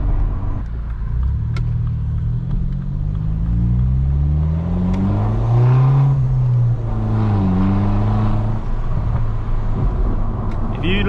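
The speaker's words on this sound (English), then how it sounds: "If you let the throttle off at the right point, it does pop quite a lot." Straight-piped BMW 1 Series F21 heard from inside at night: a loud, steady engine drone that rises and falls with revving, and exhaust pops are not clearly separable in the rumble.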